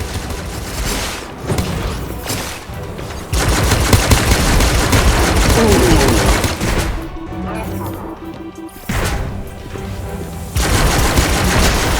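Sci-fi weapon gunfire in the roguelike FPS Gunnhildr, loud sustained bursts of rapid shots with brief gaps between volleys, up close, with game effects and a voice speaking in places.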